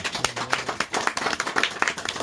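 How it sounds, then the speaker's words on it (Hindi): A church congregation claps during a Hindi-language teaching on speaking in tongues, producing scattered, fairly close hand claps that come in an uneven, patchy rhythm for a couple of seconds. "हालेलुया ताली बजा सकते हैं"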